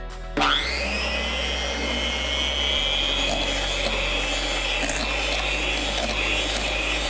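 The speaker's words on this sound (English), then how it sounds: "everything is well mixed together, thanks to our trusty hand mixer" A handheld electric mixer whips plant-based pumpkin fluff in a home kitchen, a steady close motor whine running continuously with slight shifts in pitch as the beaters move through the mixture, no talking.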